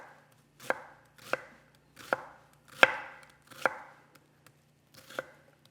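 A knife chops through an onion on a cutting board in six separate sharp strokes at an unhurried, roughly even pace, close and clear with quiet between the cuts.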